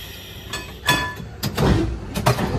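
A Kolkata tram pulls away from Shyambazar with nearby metallic clunks and rattles over a low, building rumble.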